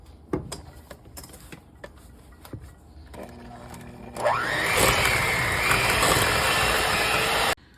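An electric mixer creams butter and sugar for cookie dough. A few clicks and taps come first, then the motor starts with a rising whine and runs loud and steady for about three seconds before cutting off abruptly.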